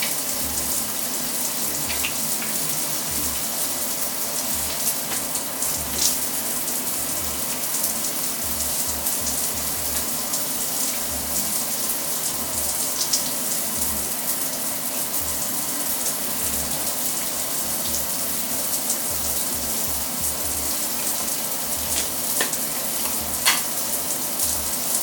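Shower water runs steadily during a hair shampoo and deep-conditioning routine, a constant hissing spray with faint splashes, continuous and moderately loud with no talking.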